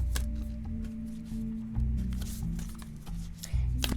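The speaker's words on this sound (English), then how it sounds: "now I'm going to pull that Moon Oracle card" Moon Oracle cards are shuffled and pulled by hand, a quiet run of riffling, tapping and papery slaps repeating close up in irregular bursts.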